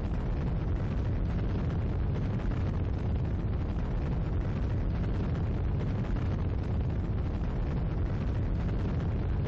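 Big rocket booster firing in Kerbal Space Program, a dense, steady roaring rumble that holds evenly throughout without breaks, loud and alone.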